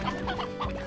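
A rooster in the video game Slime Rancher gives a short burst of clucks, quick choppy calls over a steady background hum.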